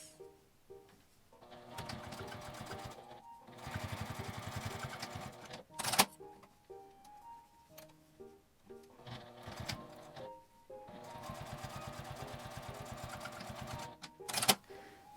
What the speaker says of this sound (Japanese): 反対側も同じように内側に折って端ミシンをかけます。